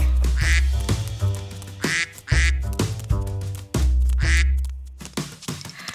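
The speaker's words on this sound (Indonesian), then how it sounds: "Setelah lihat bebek bilang, kuek." Loud, nasal duck quacks repeat in bursts over a bouncy musical backing with a deep bass beat.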